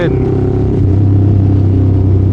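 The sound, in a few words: motorcycle engine sounding like a Yamaha MT-07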